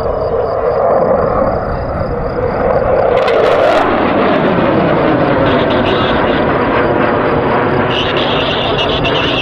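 A Mirage 2000D military jet performs an airshow display, its loud, continuous engine roar filling the air and shifting as the aircraft passes overhead.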